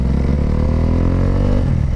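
A KTM Duke motorcycle engine roars loudly and continuously at close range, its throaty rumble steady with slight rising pitch as the bike rides along.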